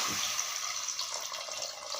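Soaking water is poured off into a cooking pot in a kitchen, giving a continuous, fairly quiet splashing pour for the whole two seconds.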